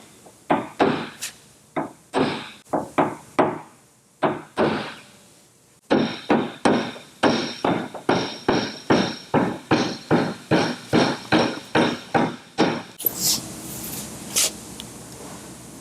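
Hammer tapping down a high spot on a car body panel during glue-tab hail dent repair: crisp, evenly spaced metallic taps in quick runs, with a brief pause partway through, close and loud.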